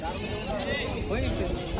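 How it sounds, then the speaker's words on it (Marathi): A goat bleats amid a busy crowd of voices and other animals, the wavering cry rising over the constant chatter of a village goat market in Hingoli district, India. "आज बाजारामध्ये शेळ्या आलेल्या आहेत"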